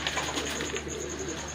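Pigeons coo steadily at a rooftop loft, soft and continuous against a constant background hum, with no clear pauses.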